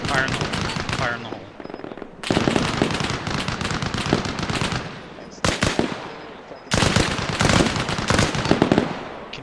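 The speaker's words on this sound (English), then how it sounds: "Machine gun directly above my position firing." Bursts of machine gun fire in the Arma Reforger military shooter, loud and close as if from directly overhead, arriving in several long sustained volleys separated by brief pauses.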